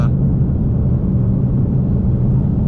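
A Whipple-supercharged Ford Mustang GT drones from inside the cabin, a steady low engine rumble with road noise that holds even and loud throughout.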